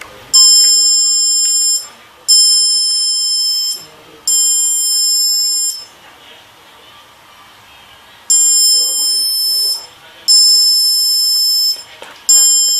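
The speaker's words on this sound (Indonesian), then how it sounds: "Setiap jarak di bawah 5 cm, maka alarm di Arduino akan berbunyi" An Arduino distance-sensor alarm buzzer sounds in loud, shrill repeated bursts of roughly two seconds each, separated by short gaps and one longer pause, with faint talk between bursts.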